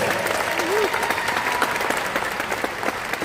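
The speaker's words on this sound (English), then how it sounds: "give her a round of applause" Applause from the crowd at a university basketball coach's introductory press conference, a continuous moderate clatter of many hands in a large room, steady from start to finish.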